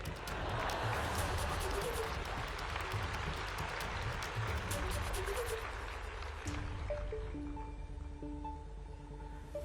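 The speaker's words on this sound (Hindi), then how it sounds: "सुनने वाले को ताली बजाने में देर लगेगी" Broad, dense applause from a large audience at an education conference, a continuous wash of clapping that thins out near the end as a tone rises underneath.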